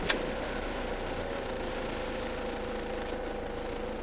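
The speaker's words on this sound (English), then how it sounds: "So, engine's running, no revs, no nothing." A Ford Transit mk6 van engine idles with a steady, low mechanical hum and faint vibration, unchanging throughout, with a small click at the start and no voices.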